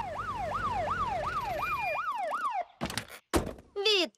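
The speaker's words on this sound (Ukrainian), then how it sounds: "Машини звучать віу, віу, віу, віу." A loud cartoon police car siren wails, rising and falling in a steady rapid cycle, then cuts off into a few short thumps and a brief final wail.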